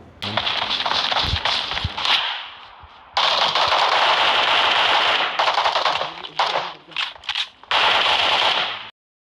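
Bizon and SCAR gunfire in the mobile battle royale BGMI, on the Erangel map: loud sustained automatic bursts, stopping and starting, with rapid rattling shots close up and no talking.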